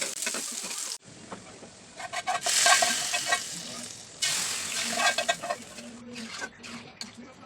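Onion and chili tempering for potato dal, fried to a crisp golden brown and poured in with a strong sizzle. The hiss starts abruptly, cuts out briefly and then surges again over stirring, heard close and fairly loud.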